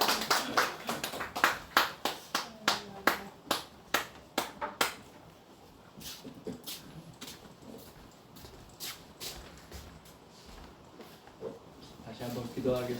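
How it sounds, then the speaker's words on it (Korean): A church congregation claps together in thanks during a worship service, a run of sharp, evenly spaced claps in the first few seconds, then a softer scattered patter of hands through the rest. "감사의 박수를 하라고"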